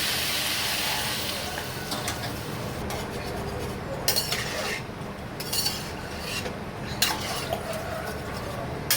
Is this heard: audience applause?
no